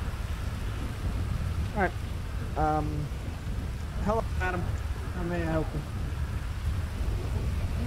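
Steady rain with low rumbling thunder fills the background of a role-play video game jail scene, a continuous dense wash running throughout beneath a voice speaking.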